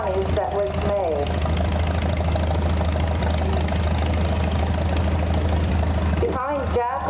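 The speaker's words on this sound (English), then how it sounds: "1939 Farmall F20. It's been restored and it's owned by Jack Rinker from Prospect, PA." A restored 1939 Farmall F20 tractor rolls past in an antique power tractor show parade, its engine idling with a steady low rumble and knocking throb throughout, while people talk over it.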